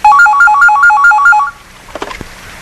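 A telephone rings in a North Korean feature film, a loud electronic two-tone trill repeating rapidly for about a second and a half before cutting off, followed by a few faint clicks.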